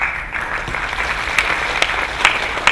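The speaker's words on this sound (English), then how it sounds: "I think that deserves a round of applause" A crowd at a launch event on a university campus in Bhubaneswar, India, claps steadily for about three seconds. The applause is moderately loud and has a few sharper individual claps standing out.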